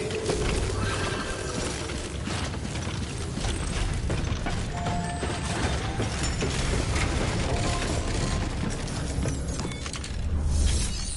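In the video game Death Stranding, a suit decontamination machine runs with a dense mechanical whirr, ratcheting clicks and gear-like clatter, loud and continuous throughout with a swell near the end, no voices.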